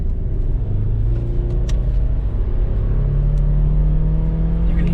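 A junkyard-sourced VR6 engine in a car pulls hard at full throttle, its steady loud rumble rising in pitch as it accelerates, heard from inside the cabin with no talking.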